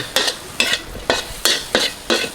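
Curry powder is stir-fried in a pan, six rhythmic scraping strokes of a spatula, evenly spaced over a soft sizzle, close and clear.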